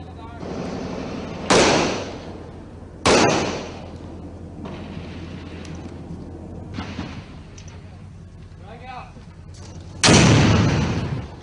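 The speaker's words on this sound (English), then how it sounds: "Explosions and then some gunshots." Recorded explosions and gunshots play back as three heavy booming blasts spread across the span, with quieter crackling shots in between, all against a low rumbling background.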